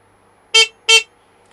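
Two short, bright horn honks from a 1000cc Suzuki GSX-R streetfighter motorcycle in quick succession, close and fairly loud, with near silence around them.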